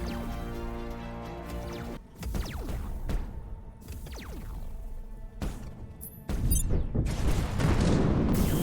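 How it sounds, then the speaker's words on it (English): Missiles launch in a volley during a Terra Invicta space battle in the video game, a series of sharp booming bursts and whooshing streaks, with a louder, rushing barrage toward the end. "Ships have just volleyed their missiles out."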